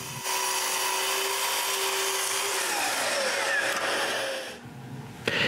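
A power saw cuts through 6x6 wood pieces in one long continuous pass, a loud steady whining rasp that runs for several seconds before the blade winds down and stops.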